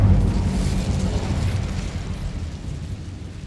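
A fire spell ignites and burns in a video game, giving a loud low roaring whoosh that swells at the start and then settles into a steady rumbling crackle.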